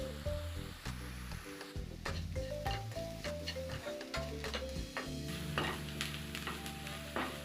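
Masala sizzling in a frying pan while turmeric is added and stirred in for masala idli, with continuous close frying crackle and repeated scraping, tapping stirs.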